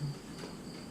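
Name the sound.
crickets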